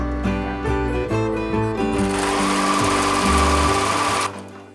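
A sewing machine embroiders slowly with cotton thread around curves, its steady mechanical whir running throughout, close and fairly loud, with a brief pause near the start and a denser, busier stretch in the middle before stopping.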